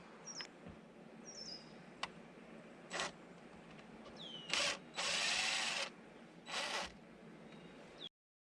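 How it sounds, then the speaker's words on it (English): A power drill runs in several short bursts while boring holes in a boat panel for a 12-volt USB accessory install, whining and rising in pitch with clicks and pauses between, close by. "make our markings and drill our holes"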